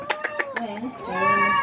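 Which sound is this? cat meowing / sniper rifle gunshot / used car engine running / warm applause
cat meowing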